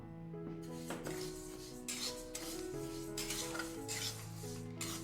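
Unwashed dal for khichuri dry-fries in a pan, with a soft rustling scrape of repeated stirring strokes over a low hum, faint and close, while a sustained musical tone plays in the background.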